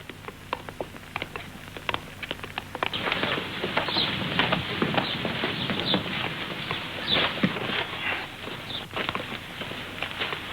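A horse's hooves clip-clop along a street at a moderate pace, an irregular patter of fairly faint hoofbeats that gets louder partway through, with a few faint bird chirps.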